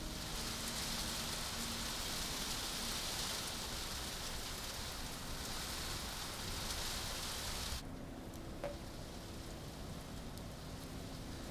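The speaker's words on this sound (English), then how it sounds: "it's very difficult to travel in such heavy rains" Heavy monsoon rain on the route from Mumbai to Bangalore, India, a dense, steady roar of rainfall on surfaces that drops suddenly to a softer downpour near the end, with no voices.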